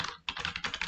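Brief burst of rapid keyboard typing as a question about emotional intelligence is entered into ChatGPT, several quick close key presses after a short gap, without speech.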